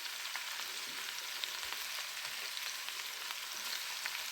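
Celery and gongura leaves fry in a pan with a steady, close sizzle of fine crackling and small pops, continuous and moderately loud with no voices.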